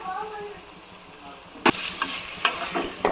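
Potatoes frying in a pan for meal maker pulao, a quiet sizzle that breaks into several bursts of scraping, stirring clatter, with some talk at the start.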